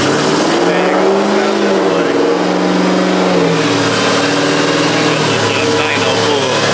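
A turbocharged 426ci Hellcat V8 on 93-octane fuel makes a pull on a dyno, roaring loudly and close with rising and falling engine pitch throughout; voices can be heard under the engine noise.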